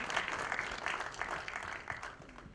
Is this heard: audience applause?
yes